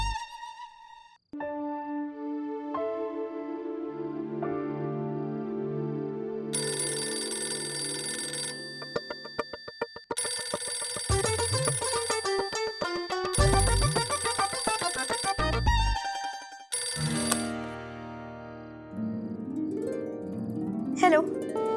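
A telephone rings with a long, melodic ringtone of repeated bell-like tones, loud and continuous, set against a background musical score in a TV serial scene.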